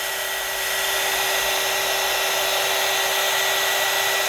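A handheld heat tool blows loudly and continuously, melting embossing powder in a craft session, a steady high whooshing roar with a constant whine and no voices.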